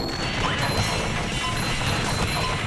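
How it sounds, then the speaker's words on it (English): A giant snowball smashes into a Thunder tiki in SpongeBob Battle for Bikini Bottom, a loud, dense crash with clattering debris that fills the whole moment at steady volume. "have that giant snowball smash one of the Thunder tikis"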